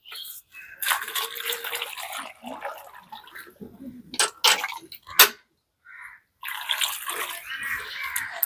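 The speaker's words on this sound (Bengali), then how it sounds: "এবার এই গোটা গোটা থাকা অবস্থাতে আমি ভালো করে জল দিয়ে ধুয়ে নেব একবার" Water splashes and runs over peeled, large-cut ash gourd pieces being washed by hand, with bursts of splashing, brief pauses and a few sharper clatters, fairly close and continuous without talk.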